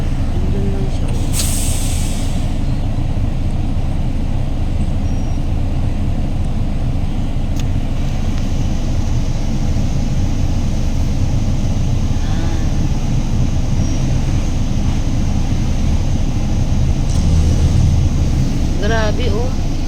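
Heavy road traffic with cars and buses in hot weather, a steady loud rumble of engines and hissing air brakes throughout, with a brief higher squeal near the end.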